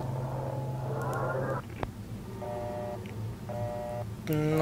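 Phone dialing in the horror video game Detention: a run of steady electronic tone bursts, several short dial-tone beeps in a row at moderate level over a low background hum, ending in a brighter, louder ringing tone.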